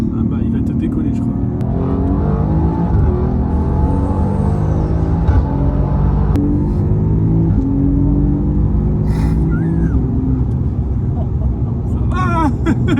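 An Alfa Romeo Giulia Quadrifoglio with 510 hp, in race mode with its exhaust valves open, accelerating hard with a loud, rising engine roar through repeated gear changes, heard from inside the car.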